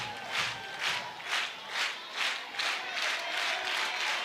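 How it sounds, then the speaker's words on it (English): A college softball crowd at Rhodes Stadium in a South Carolina vs Alabama game, rising in rhythmic waves of cheering and clapping, about one swell every half second, building as fans come to their feet. "The crowd's going to come to their feet here at Rhodes."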